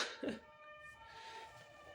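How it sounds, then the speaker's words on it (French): An emergency vehicle siren wails faintly in the distance outside, a thin, steady tonal drone under quiet room noise. "Vous entendez la sirène là?"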